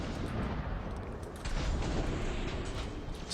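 Robot weapons firing in the War Robots game, a dense, continuous barrage of booming shots and blasts that fills the whole span, loud and sustained with no pauses.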